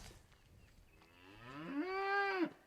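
A beef cow on pasture gives a single long, rising moo that swells louder and holds before cutting off, heard clearly in a quiet outdoor setting.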